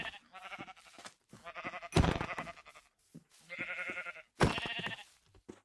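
Repeated sheep bleats from a Minecraft video game in a series of wavering calls, close and fairly loud, with short pauses between them.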